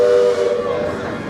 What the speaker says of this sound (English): hold on for the whistle